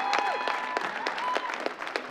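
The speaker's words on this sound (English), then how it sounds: "let's have a big round of applause, please, for both these ladies after three excellent rounds" An arena crowd claps and cheers for two women boxers after three rounds at a London muay thai event, a steady patter of applause with a ring announcer's voice carrying over it.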